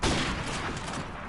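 A gunshot in Modern Warfare Remastered opens with a sharp blast, then fades into a dense, sustained wash of distant gunfire at moderate volume.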